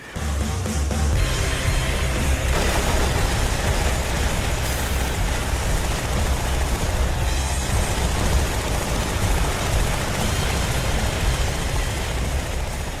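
Helicopter engine from the video game Hitman Absolution, a small personal-style helicopter, running as a steady loud broadband roar with deep low rumble throughout, no voices.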